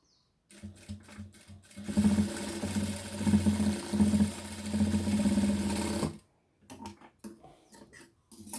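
A sewing machine stitching bra straps together runs in a steady rapid mechanical whir for several seconds, stops briefly, then gives a few short ticks and clicks, close and clear with no talking.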